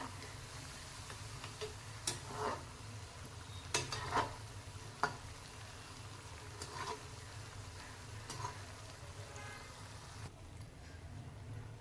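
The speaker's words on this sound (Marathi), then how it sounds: "या रंगावर मी शंकरपाळे तळलेले आहेत" Shankarpali, the Indian sweet snack, frying in hot oil: a soft, steady sizzle with faint ticking bubbles and a few light utensil taps, quiet and close, with no talking.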